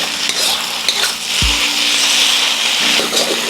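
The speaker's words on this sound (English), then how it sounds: "Give it a good stir fry." Beef chow fun stir-fried with eggs in a pan, with steady loud sizzling and frying plus repeated scraping and stirring strokes, close up, with a brief low thump partway through.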